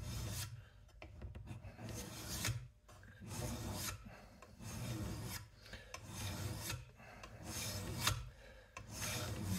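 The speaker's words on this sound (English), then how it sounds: "I'll try and bring them back by doing some draw filing." A hand file drawn across metal on a Brown & Sharpe bench center, rasping in steady repeated strokes, each about a second long with short pauses between, close and moderately loud with no talking.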